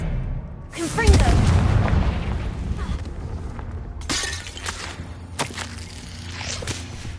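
The Confringo blasting spell in Hogwarts Legacy detonates in a loud booming burst with shattering debris, followed by rumbling crackle and further sharp impacts, a voice calling out over the blasts.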